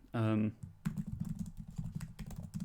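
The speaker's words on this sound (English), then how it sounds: "also typing at the same time speaking" Someone types on a computer keyboard, a fast, irregular run of close clicks and key thumps. A brief voice comes just before the typing starts.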